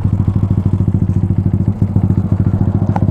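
A motorcycle engine idles close by, a steady rapid low putter with a loud, even pulse throughout.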